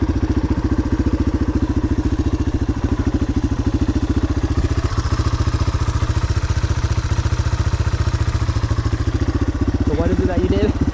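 A dirt bike engine idling steadily nearby with a rapid, even thumping pulse throughout, with brief voices near the end.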